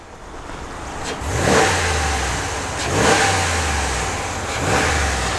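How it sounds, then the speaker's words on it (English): A RAM 1500 pickup's HEMI engine, with no exhaust fitted, revs up three times in a row, each rise in pitch falling back toward idle, loud and close with no talking. "let's go ahead and do a quick rev."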